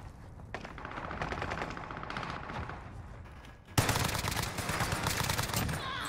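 Rapid automatic gunfire in Call of Duty Warzone on Rebirth Island, sustained bursts with a sharp jump to louder, denser shooting midway, close and continuous with no talk.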